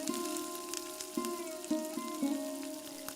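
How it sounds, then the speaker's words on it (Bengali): Minced garlic, a few green chilies and a pinch of cumin seeds sizzle in hot oil for tempering, a steady fry broken by several sharp crackling spurts, close and alone with no talk. "তেল গরম হলে প্রথমে একটু রসুন কুচি আর কয়েকটা কাঁচামরিচ আর অল্প একটু জিরা দিয়ে দিলাম ফোড়নের জন্য"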